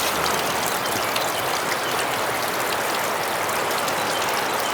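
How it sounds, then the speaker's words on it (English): The Duck River rolls past a rocky bluff as a loud, steady rush of flowing water, close and unbroken, with no voices. "And the river is rolling today."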